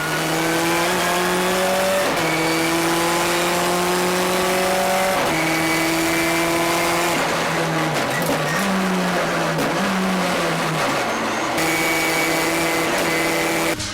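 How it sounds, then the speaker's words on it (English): Loud V8 Commodore drift cars rev and hold steady howling tones, pitch dipping and wobbling as the cars slide, with a continuous roar throughout and no talking. "V8 Commodores are catching on as an alternative to turbocharged import drift cars."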